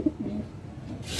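Racing pigeon cooing at close range, a few soft low throaty coos near the start, followed by a burst of broadband hiss toward the end.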